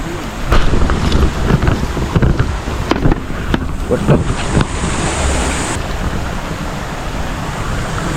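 Water pours over a small anicut weir built across a stream at Kuruwita, giving a broad, steady rushing roar up close, with wind buffeting the microphone and a few sharp knocks early on.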